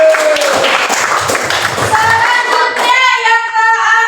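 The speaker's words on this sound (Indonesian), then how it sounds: "Tepuk tangan buat Mbak Nisa." Primary school pupils in a fifth-grade Islamic education class clap their hands together in a loud, brief burst, which gives way to a child singing or chanting.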